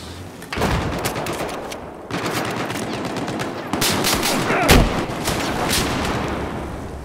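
Gunfire in the video game Battlefield 4, with rapid automatic bursts and sharp shots in a sustained loud barrage, plus a heavier blast near the middle, and no voices over it.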